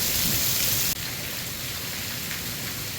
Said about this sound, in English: Before you knew it, the rain was coming down.